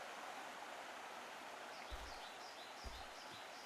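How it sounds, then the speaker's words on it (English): A river flows steadily in the Shenmue 3 video game, heard as a constant broad rushing wash of water with faint bird chirps above it and no talking. "Whenever I go past this bit, you can hear the river"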